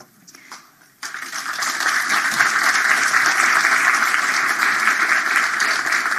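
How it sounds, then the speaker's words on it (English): A large audience bursts into sustained, loud applause following a speech on democracy at a forum in Prague, rising sharply after a brief quiet moment and holding steady throughout. "I thought that deserved a round of applause"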